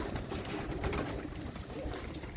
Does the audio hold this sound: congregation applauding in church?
no